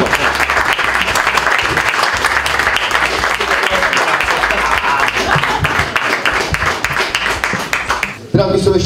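Loud, dense applause from an awards crowd greets a navigation rally crew at a winter rally event, sustained clapping with scattered voices mixed in, ending as a voice cuts in.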